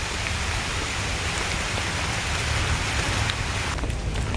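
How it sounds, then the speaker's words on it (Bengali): Steady rain falls in a forest bird sanctuary in Kolkata, a dense, continuous hiss of drops on leaves and ground that holds even throughout with no voices. "এটা তো বৃষ্টি এসে গেল"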